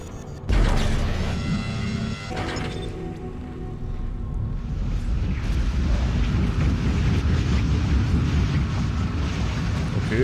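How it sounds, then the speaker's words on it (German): Wind blows across the surface of Aegis VII in the game Dead Space as a strong, deep rumbling roar. It starts with a few heavier gusts, then settles into a constant loud drone with no talking. "Windig hier."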